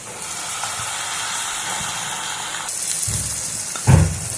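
Ground masala paste hits hot coconut oil over well-browned sliced onions and sizzles: a steady close hiss that swells into a louder sputtering burst near the end, with no talking.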